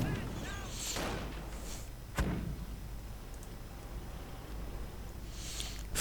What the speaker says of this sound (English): further artillery going on here